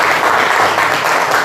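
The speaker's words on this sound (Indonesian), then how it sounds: "Tepuk tangan untuk kita semua." Classroom applause from vocational high school students at a morning lesson, a steady, loud patter of clapping filling the short span with no voices over it.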